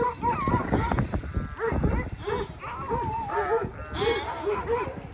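Neighbours' dogs in a garden bark repeatedly in short, uneven bursts at close range, mixed with excited human voices and shouting throughout.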